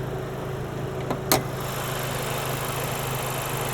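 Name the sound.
2024 Acura Integra Type S K20C1 2-liter turbo engine idling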